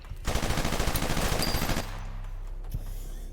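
Rapid automatic rifle fire in the video game Project Genesis, a loud dense burst of shots lasting about one and a half seconds, then fading to low background hum with a single faint click.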